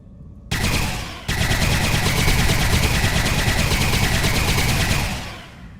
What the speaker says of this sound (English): Time to shoot with energy weapons.